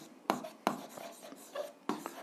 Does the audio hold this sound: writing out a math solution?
yes